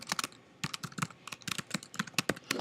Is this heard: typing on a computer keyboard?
yes